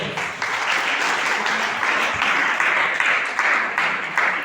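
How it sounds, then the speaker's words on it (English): An audience at a school debate competition applauds the debaters, a steady, dense wash of many hands clapping that carries evenly through the whole stretch. "Please, a round of applause for our debaters."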